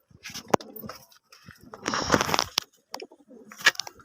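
A pigeon at a market-bought flock coos in a few soft, brief bursts at close range, with scattered handling noises and rustling between calls.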